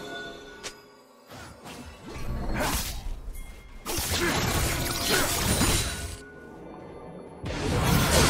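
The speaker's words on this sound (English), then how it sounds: "Turret has been destroyed." A League of Legends turret being destroyed, with a series of loud whooshing, shattering crashes in separate bursts amid other ability sounds from the match.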